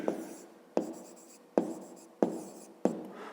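A pen writes a maths solution by hand on paper in five distinct strokes at a slow, regular pace, each crisp at the start then trailing off, close and quiet.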